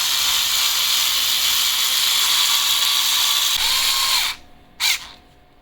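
A power driver tightens two large screws securing a transmission and skid adaptor on an RR410, a loud steady whir holding for about four seconds before cutting off, followed by one short final burst.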